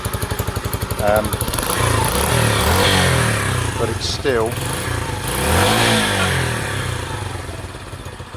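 A Sinnis SC125 motorcycle engine, fitted with its airbox, idles and revs up and down nearby, the pitch swelling and falling, while someone talks briefly over it.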